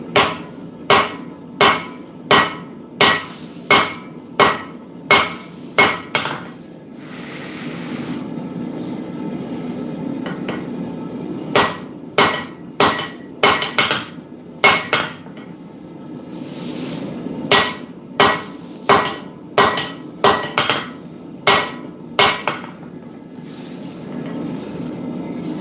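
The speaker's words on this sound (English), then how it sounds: "Just going to knock the corners in." Hand-forging a square hammer head, a smith strikes the hot steel corners in quick bursts of sharp ringing hammer blows, roughly ten per run with brief pauses between, close and loud over a steady forge roar.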